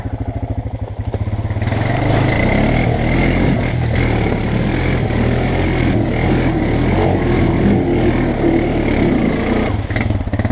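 A Honda two-wheel-drive ATV ploughs through a deep mud pit in third gear, its engine droning loud and close at steady revs with clattering and sloshing throughout, and no talking.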